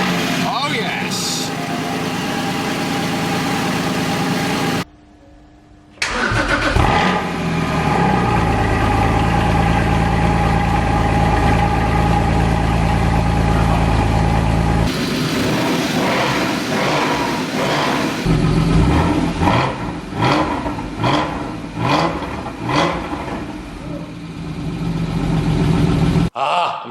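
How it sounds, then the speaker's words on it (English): A Porsche Cayman GT4 engine idles after finally starting, a steady mid-low drone near at hand that runs on across the stretch, with a brief dropout and people talking over it at times. "I'm so happy that the car starts and runs."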